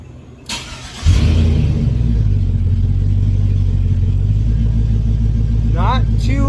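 A truck engine with a cheap exhaust of 2.5-inch straight pipes and the muffler removed starts with a thump and settles into a loud, deep, steady rumble. A quick rev rises near the end, and a voice talks over it.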